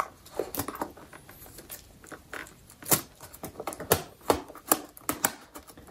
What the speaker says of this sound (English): Can't get the keyboard back on now.